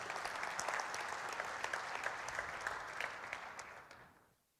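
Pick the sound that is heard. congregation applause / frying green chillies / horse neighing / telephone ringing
congregation applause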